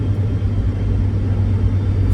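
A track car with a floppy, non-reinforced chassis creeps slowly over a bump to avoid bottoming out, its engine a loud steady low rumble close by with no sharp impact.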